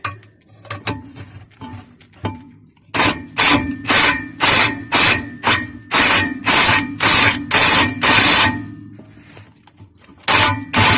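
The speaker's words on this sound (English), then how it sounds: "I'm just going to stick the impact on it because we're going to replace them anyway" Impact wrench hammering at seized exhaust back box bolts on a Ford Fiesta, loud rapid bursts repeated about a dozen times, preceded by lighter metallic clanks and tool handling, no talking.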